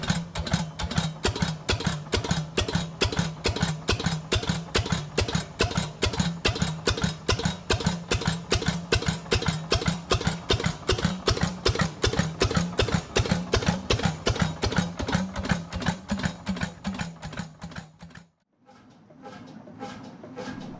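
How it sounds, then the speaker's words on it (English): A Danish-built Hundested 45 HP one-cylinder two-stroke semi-diesel hot bulb marine engine runs steadily, its loud, even chuffing beat repeating for most of the stretch before cutting off abruptly and leaving a faint low rumble. "The Hundested 45 HP semi-diesel engine, built by Hundested Motor Fabrik in Denmark, is a prime example of reliable marine hot bulb technology"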